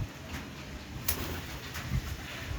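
Soft pigeon coos drift in over steady background noise, a few low murmuring calls spread across a couple of seconds.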